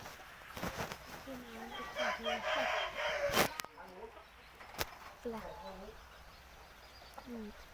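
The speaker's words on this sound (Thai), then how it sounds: "อันนี้จะเป็นลูกไก่นะครับ ลูกไก่ชั้นดี" Fighting cocks at a large Thai cockfighting arena: a rooster crows nearby, with clucks and calls from other birds, over a busy background with occasional sharp knocks.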